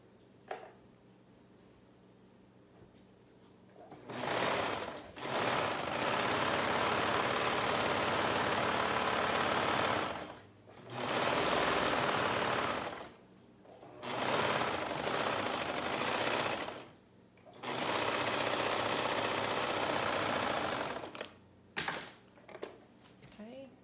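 A sewing machine stitches a seam on the Mandy shirt in four close bursts of steady, whirring running, separated by brief pauses.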